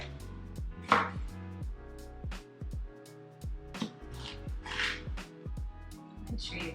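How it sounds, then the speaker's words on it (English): Knife chopping jalapeños on a cutting board for pico de gallo, a steady run of close, crisp thuds and cuts with short pauses between bursts, with some light rustling of the pieces. "Make sure you cut it down the center"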